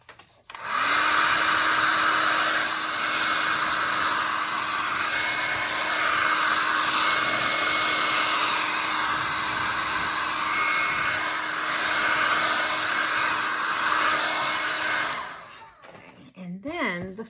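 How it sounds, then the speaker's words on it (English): A hair dryer blows on wet Mod Podge coating a craft window, switching on with a rising whine into a steady loud whoosh that runs for about fourteen seconds before cutting off, with brief talk after it stops. "That's still wet from the Mod Podge. Then I'm going to dry it."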